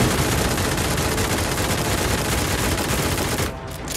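Dense, continuous volley of pistol gunfire aimed at a sentry bot in Fallout Dreams, loud and sustained without a break, easing slightly just before the end.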